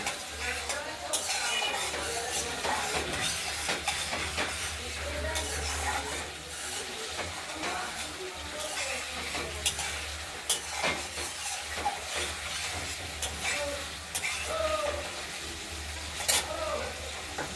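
A stone-ground spice paste fries in oil in a pan while a spoon stirs and scrapes it steadily, with close clinks against the metal over a low, constant sizzle and background hum, no speech.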